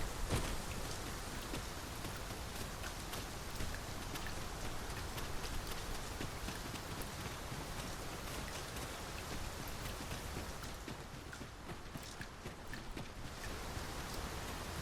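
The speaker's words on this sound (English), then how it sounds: "Mine's the rain, Master. The weather may yet turn fierce." Steady rain pouring in the fantasy role-playing game Dragon's Dogma 2, a dense, continuous hiss filling the scene for the whole stretch with no break or variation, heard on its own without any talk.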